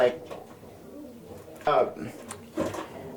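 Racing pigeons, a mix of young and old birds, coo in a loft in brief soft bursts, with someone talking throughout.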